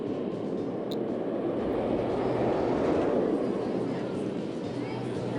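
A roller coaster train runs on its track in RollerCoaster Tycoon 2 at Amity Airfield, a steady, dense rumbling roar that holds the whole way through under a talking voice.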